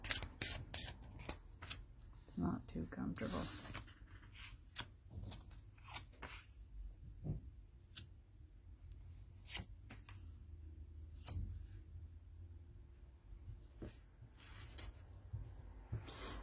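Tarot cards from The Urban Tarot deck are shuffled in short crisp bursts, riffles and slaps coming irregularly and close by, while a person speaks briefly in between.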